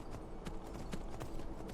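Horse hooves clip-clop in the video game Skyrim, a quiet, quick run of rhythmic thuds and taps at a trot, fairly distant and evenly spaced, with no talk.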